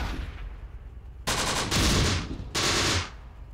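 Tank cannon shells fired in the Close Combat wartime strategy game, heard as two loud, sustained bursts of gunfire-like blasts that start abruptly over a low rumbling battle background.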